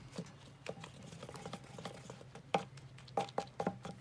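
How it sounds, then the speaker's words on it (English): A brush works saddle soap and water into foam in a tin, making soft, close scrubbing and patting strokes with irregular taps and squelches, fairly quiet and unaccompanied. "You take the brush and you make some foam."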